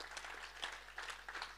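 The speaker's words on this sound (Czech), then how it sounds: "Poďme dať veľký potlesk Ježišovi za to." A church congregation at a Slovak worship service claps together, a dense, fairly even burst of applause filling the room, moderately loud and sustained without voices.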